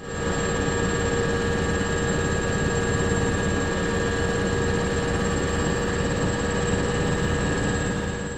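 A helicopter flies over earthquake rubble in Hatay, giving a steady, loud rotor and engine drone with a constant whine that stays even throughout, with no talk.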